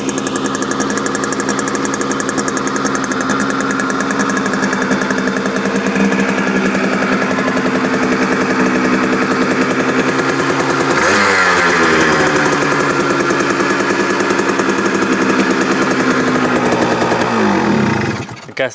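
An old Kawasaki KH125 two-stroke motorcycle engine runs loud and close, with a rough buzzing idle and a couple of throttle blips that rise and fall, then cuts off at the end.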